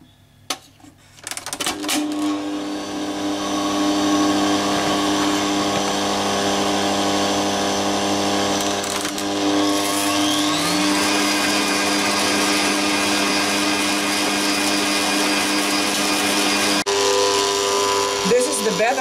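A mixer whirs steadily while flour and cocoa powder are worked into chocolate cake batter in a bowl, a close, continuous motor hum with occasional rattles and pitch shifts.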